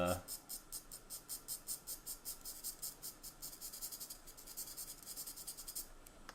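A sharpened H pencil draws subtle tree forms on paper in a chalk and charcoal landscape, making close, steady scratchy strokes in a quick regular rhythm that continues throughout.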